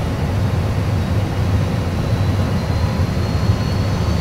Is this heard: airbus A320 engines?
yes